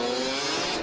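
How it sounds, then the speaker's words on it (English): A motorbike engine revs hard in a brief, loud, dense roar that holds steady for under a second. "Whoa! Motorbike."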